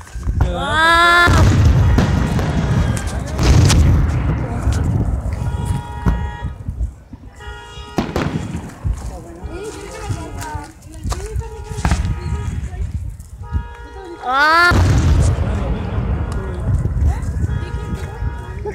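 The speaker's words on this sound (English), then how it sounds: "Look at all the fireworks." Booming bangs and crackling bursts of fireworks go off repeatedly, loud and close, mixed with excited shouting and whistling rising tones.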